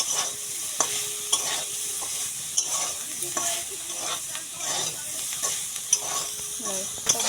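Greens being fried in a pan with turmeric powder and green chili, giving a steady soft sizzle broken by repeated stirring scrapes at a regular pace, close and without speech.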